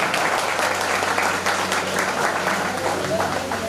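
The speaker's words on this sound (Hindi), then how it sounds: "फिर हमारे गेस्ट के लिए जोरदार ताली बजा दो।" A hall full of people at a design institute's anniversary celebration claps for the guests, a loud, continuous burst of applause with a voice talking over it.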